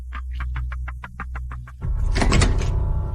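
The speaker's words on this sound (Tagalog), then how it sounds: "Ako na ang magbubukas ng pinto." A door is opened with a quick series of rhythmic mechanical clicks from the latch or lock. A louder, broad swishing thunk follows as it swings open, close by.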